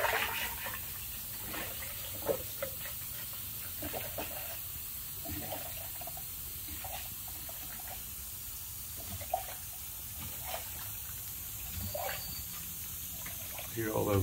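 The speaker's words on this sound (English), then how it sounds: "Hear all those bubbles inside." Soft gurgling and bubbling of air bubbles in radiator coolant of an overheating Kawasaki Mule diesel utility vehicle, with small irregular pops over a steady hiss, close by and fairly quiet.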